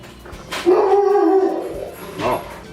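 An Airedale Terrier howls once, loud and close, in a long wavering wail that falls away into whimpering yips.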